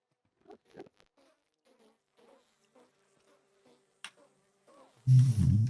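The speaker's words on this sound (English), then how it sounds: "Musical bees." Short buzzing sounds of video game bees come in a rhythmic, melodic pattern like bees humming a tune, ending in a louder burst of noise.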